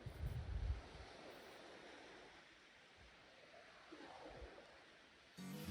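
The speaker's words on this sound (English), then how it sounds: "Look, we're right next to the water now, listen." Low, steady rush of surf washing against a pebble beach in Patagonia, Chile, with breezy wind noise over the microphone and a louder gust at the end.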